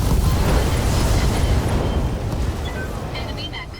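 A mech in the BattleTech video game is destroyed by a precision strike, with a loud rumbling explosion that holds steady, then slowly fades as a few higher game tones and chimes rise near the end.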